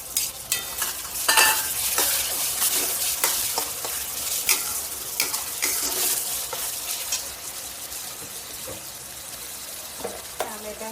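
Tomatoes frying in a pan sizzle steadily while a utensil scrapes and clatters through them in irregular stirring strokes, close up, with occasional watery crackles.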